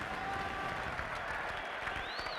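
Crowd noise at a 1979 Australia vs West Indies one-day cricket match, a distant, continuous roar of stadium spectators with a faint whistle rising near the end, heard as a broad wash rather than distinct voices.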